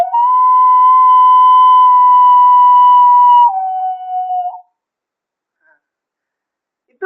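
A human voice imitates an eerie dog howl at night. A single loud, steady, whistle-like tone is held for about three seconds, then drops slightly lower and fades out, followed by silence.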